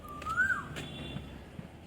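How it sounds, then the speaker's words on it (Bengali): An Asian koel calls once, a single whistled note that rises and then cuts off, fairly faint against a low background hum. "কোকিল কেমন ডাকছে"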